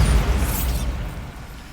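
A deep, booming blast from the Bombarda spell in Hogwarts Legacy, loud at the start and rumbling off as it fades over under two seconds, with no voices.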